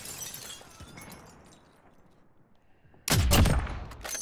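Sniper rifle fire in a multiplayer shooter video game: a sudden loud burst of sharp gunfire cracks and debris near the end, following a quieter stretch of faint game ambience.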